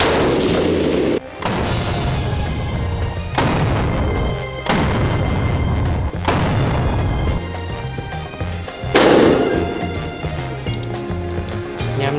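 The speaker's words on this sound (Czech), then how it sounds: "Tak, jdu střílet teď já zase." Real firearms fired outdoors at targets, giving several loud, booming shots spaced a few seconds apart, each followed by a long decaying echo.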